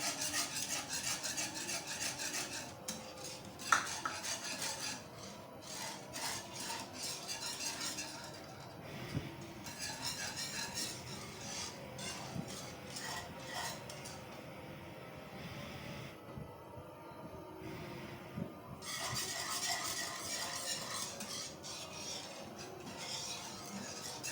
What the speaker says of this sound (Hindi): हैंड विस्क ले लिए ताकि बिल्कुल भी कोई मसला ना रहे इसकी गुठलियाँ वगैरह बनने का। डालते जाएं और मुसलसल इसको हिलाते जाएं।